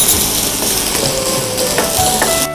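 Chopped onion hits hot oil in a pan on a gas stove and sizzles loudly and steadily, with a dense frying hiss and a few faint clinks from the pan.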